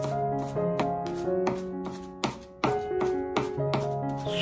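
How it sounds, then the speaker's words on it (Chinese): A cleaver minces garlic on a chopping board, with quick sharp knocks in uneven bursts and a few louder strikes, heard up close over light background music. "再改刀剁成蒜末"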